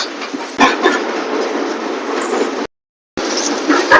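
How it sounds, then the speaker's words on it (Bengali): The Falaknuma Express runs on its rails, heard from aboard as a loud, steady rumble with clickety-clack wheel beats. The sound briefly drops out for half a second, then resumes. "অসাধারণ অসাধারণ ট্রেন জার্নি হচ্ছে দুর্দান্ত।"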